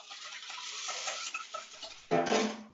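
A spoon or whisk stirs a cream, milk and vanilla mixture in a bowl, a steady close scraping swish with a brief louder clatter near the end, no voices.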